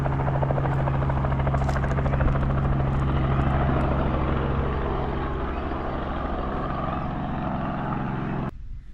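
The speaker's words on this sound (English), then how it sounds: "The chopper in the distance about to take off, or is taking off." A helicopter at Cobbold Gorge runs up for takeoff some distance away, a steady low rotor drone and engine whine holding for about eight seconds before cutting off abruptly.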